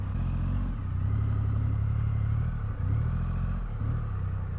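Triumph Rocket 3 R 2500cc motorcycle idling with a deep, steady low rumble, dipping briefly as the throttle blips twice, close and alone without speech.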